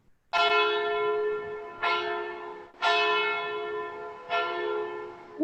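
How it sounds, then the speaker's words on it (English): An alarm bell in a stage performance of Macbeth tolls four loud, resonant strikes, each ringing out and decaying before the next, close and alone with no talk. "Ring the bell!"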